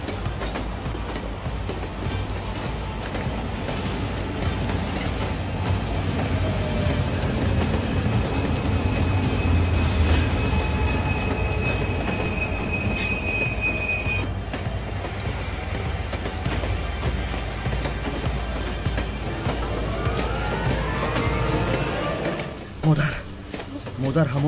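A moving train rolls steadily on its rails with a continuous loud rumble, high wheel squeals and screeches drifting in and out, and voices speaking over the noise throughout.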